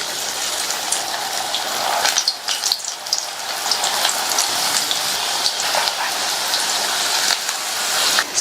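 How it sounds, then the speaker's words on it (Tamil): Okra pieces fry in hot oil in a kadai, a steady bright crackling sizzle with occasional sharper pops, close and continuous, with no talk over it. "கடாயில எண்ணெய் விட்டு சூடாயிடுச்சு. ஒவ்வொரு வெண்டைக்காய் பீஸா எடுத்து சேர்த்துக்கலாம்."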